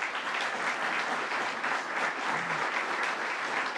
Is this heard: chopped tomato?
no